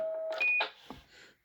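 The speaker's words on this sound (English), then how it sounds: "So put both the beeps on." A retro CB radio gives its roger beep: short electronic tones at the start, followed by a brief burst of static and a faint tail.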